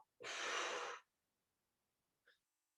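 A single deep, breathy exhale during a yoga stretch, loud and close, lasting about a second, followed by a faint brief breath sound.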